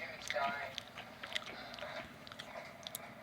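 Crunchy glazed peanuts coated in hot spice being bitten and chewed close up, a few sharp crunches over faint background hiss.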